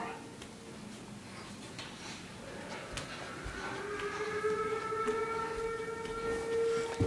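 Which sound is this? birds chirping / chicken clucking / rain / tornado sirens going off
tornado sirens going off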